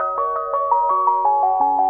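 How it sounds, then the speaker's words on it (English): A Tesla Model S Plaid's exterior speaker plays an ice cream truck jingle, clear bell-like notes repeating in a steady, bouncy rhythm. "Right now, I've got it set to an ice cream truck."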